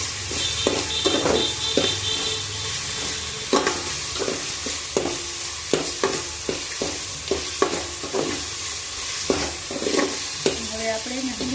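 Chopped ginger and garlic sizzle in hot oil for Kathiawadi-style vaghareli khichdi, with a steady frying hiss broken by repeated sharp scrapes and taps of a spoon stirring against the pan.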